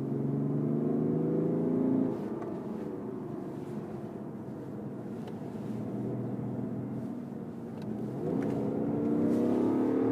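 A BMW 530d G30 diesel sedan accelerates in sport mode, its engine droning steadily inside the cabin with rising tones that drop at a gearshift and climb again near the end, with no talking.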